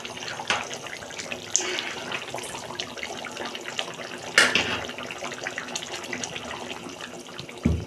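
Liquid is poured in a home kitchen while a Bengali fish curry with cauliflower and potato is cooked, a continuous splashing trickle with a few sharper clinks and spikes, close by and without talk.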